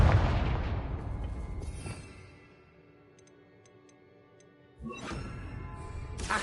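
A Confringo blast spell in a PS4 video game: a loud, broad explosive boom opening the moment, tailing off into quieter ticking game ambience before a second sharp burst lands.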